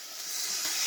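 Cheap Dollar Tree steaks sizzle in butter in a pan, a brief broad hiss that swells slightly louder, heard up close with no voices.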